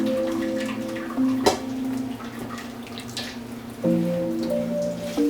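Hot water from cooked spaghetti poured out into a kitchen sink, a continuous splashing, draining wash with a sharp splash near the start and steady tonal hum or music underneath.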